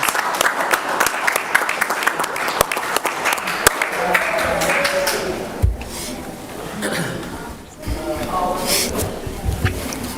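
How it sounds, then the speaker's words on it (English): Applause for the coaches at a school committee meeting, with steady clapping mixed with chuckles and laughter. Voices talk through the second half as the clapping fades. "If we could also just give one more round of applause and thank you to the coaches"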